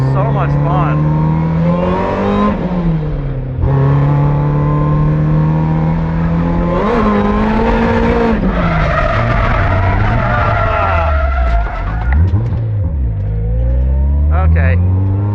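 A BEAMS-engined Toyota AE86 is driven hard around a track, its engine revving up and down continuously while the tires skid and squeal through corners, loud and close throughout, with occasional voices over the din.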